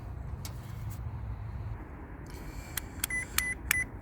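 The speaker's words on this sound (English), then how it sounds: "So to measure continuity, I've turned my meter to ohms." Short electronic beeps from a multimeter in continuity mode, probing a wire on a Ford Mondeo ST 2.5 engine, several sharp chirps in quick succession over a low engine-bay rumble.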